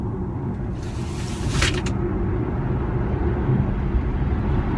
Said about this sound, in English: I'm doing 30 miles an hour now, and I'm just going to put my foot down and see what happens. Listen to this.